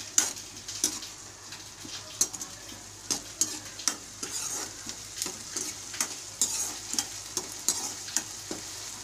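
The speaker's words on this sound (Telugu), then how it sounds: "గ్రీన్ చిల్లీ సాస్ కూడా వేసుకుందాం. కొంచెం ఫ్రై చేసుకుందాం." Green chilli sauce frying in a pan for veg manchurian, with a steady close sizzle broken by frequent sharp clicks and scrapes of a spoon stirring against the pan, no voices.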